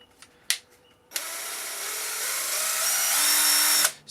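A Makita 12V impact driver with a variable trigger, a few short clicks and blips, then one sustained whirring run that builds slightly before cutting off abruptly, close up with no talk.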